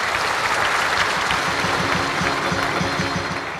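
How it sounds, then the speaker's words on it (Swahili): A crowd at a Young Africans club gathering gives sustained, loud applause for a former club chairman, a thick continuous wash of clapping that tapers slightly at the end. "Tumpigie makofi sana."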